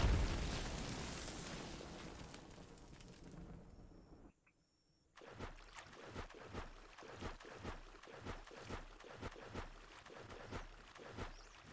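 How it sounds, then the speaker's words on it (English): An incendiary module attack in the video game Biomutant opens with a loud, roaring burst that fades into near silence. A rapid run of rhythmic crackling pulses follows and keeps going steadily. "Let's use the incendiary module even though he's almost dead."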